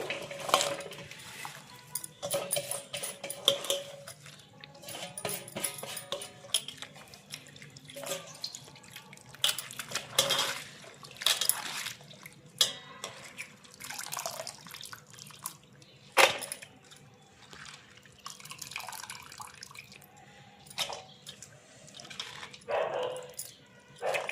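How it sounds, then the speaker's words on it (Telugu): Cabbage layers rinsed in water for crispy cabbage pakodi, with irregular splashes, drips and light clinks of a dish or utensil, fairly quiet and close. "పొరలు పొరలు క్యాబేజీ నీళ్ళల్లా కడగాలి"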